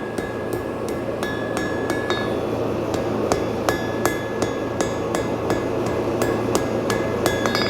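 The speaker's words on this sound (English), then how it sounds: "that's just done by a few taps on the diagonals, the corners of your piece" Rapid, regular hammer taps on hot steel as a horseshoe is forged into a horse-head hoof pick, each blow ringing sharp and close over a constant forge hum.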